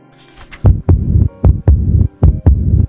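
Heartbeat sound effect: seven deep, loud thumps in a steady lub-dub rhythm under a low hum, with no speech.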